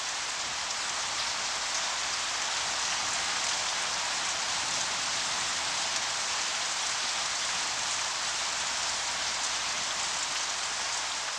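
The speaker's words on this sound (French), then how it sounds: "Après des mois de sécheresse, enfin la pluie tant attendue arrive." Steady, dense rain falls after months of drought, an even unbroken hiss at constant loudness throughout with no voices.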